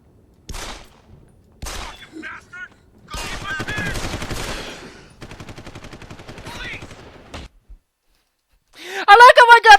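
Bursts of rapid automatic gunfire from the video game Deus Ex: Human Revolution come in short separated volleys, with a loud sharp flurry near the end and some gaps of quiet between.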